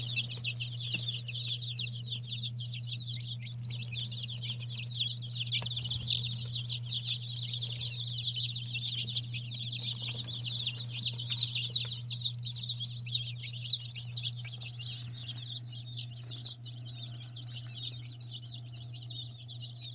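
A brood of baby chicks, some still without feathers, peeps continuously in a high, busy chorus while older chickens cluck nearby, over a steady low mechanical hum.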